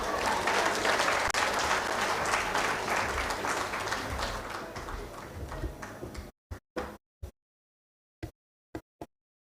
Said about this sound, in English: Can Ms. Sylvia Mulingi have a better round of applause, please?